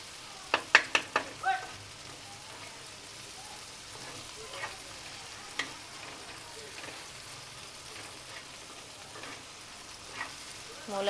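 Onions and tomatoes with a little salt cook in a pan with a soft, steady sizzle. A quick run of utensil clicks comes early, with scattered taps later.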